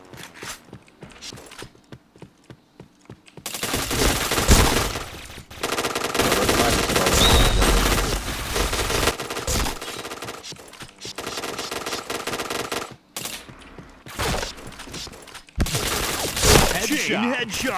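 Sustained automatic gunfire in an online shooter game, loud and dense in long continuous bursts broken by brief pauses, with some quieter stretches of shuffling sounds at the start and end.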